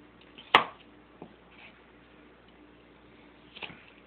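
A knife cuts through vegetables for homemade salsa: one sharp chop followed by two softer cuts spaced apart, close and isolated in a quiet room.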